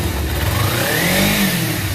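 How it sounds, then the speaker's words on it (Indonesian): Used motorcycle engine being checked before purchase, loud and close, rising in a smooth rev from idle and then falling back, with no voices. "Kita coba gas motornya."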